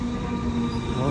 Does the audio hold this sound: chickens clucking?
no